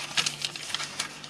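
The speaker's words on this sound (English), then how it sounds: "What I will do here is I'll take my scissors and just cut along like that." Scissors snip through a sheet of adhesive foam in a quick run of several crisp, close cuts, fairly quiet and with no voice.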